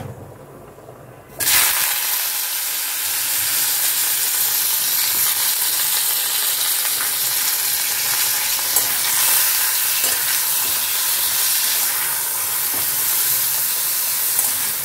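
Vegetables hit hot oil in a home kitchen pan, bursting into a loud, continuous sizzle after a quiet moment and frying steadily up close with occasional stirring scrapes.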